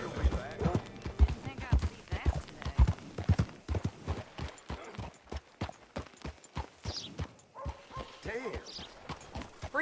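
Horse hooves clip-clopping steadily in a western video game, Red Dead Redemption 2, a close rhythmic run of hoof strikes with a brief whinny and voices talking over parts of it.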